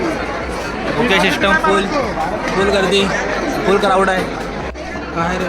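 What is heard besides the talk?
crowded buffet hall chatter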